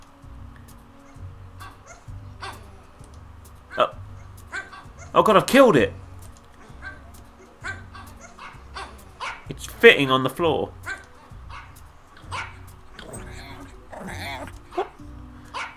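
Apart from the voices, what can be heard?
squishy fabric pug dog toy barking in Femida video game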